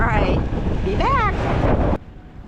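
Strong wind buffets the microphone aboard a sailboat during a windstorm at Marathon, a loud roaring gust with a brief voice-like whistle, cutting off abruptly near the end.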